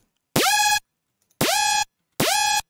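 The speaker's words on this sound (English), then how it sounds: "With the first saw playing alone, it sounds like that." Unprocessed detuned saw synth patch from Serum, as used for tearout bass: three short, loud notes, each sliding quickly up into pitch and holding briefly, separated by silence.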